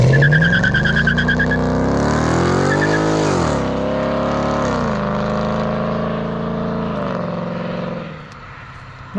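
2017 Mustang GT with an MBRP S7239 cat-back exhaust pulling away from a takeoff, a loud close roar climbing through several gear changes before easing off, with no talk.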